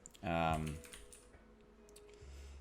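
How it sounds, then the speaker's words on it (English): A search typed on a computer keyboard: a short, close burst of rapid key clicks that fades into quieter tapping, with a voice heard briefly near the start. "But let's just type in dentist near me."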